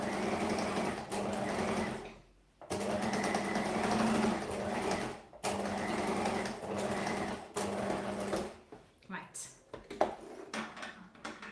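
A sewing machine stitches fabric binding in several steady bursts separated by short pauses, the motor whirring loud and close before stopping near the end with a few light handling knocks.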